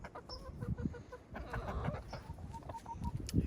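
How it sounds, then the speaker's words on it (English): Backyard chickens clucking close by, several hens giving short repeated clucks and low murmuring calls, fairly quiet, with light rustling around them. "Okay, so we're gonna take this to the chickens."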